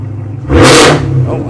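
A Chevrolet Camaro ZL1 fitted with a carbon fiber exhaust gives a single short, loud rev that swells and falls back to a steady idle rumble, heard close.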